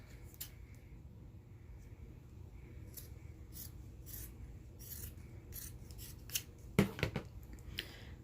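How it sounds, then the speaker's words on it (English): Scissors snip through the knit sleeve of a thrift store sweater, a soft steady rasp of fabric rubbing under low room noise, ending in a few sharper close cuts and clicks of the blades. "I'm just going to cut this off"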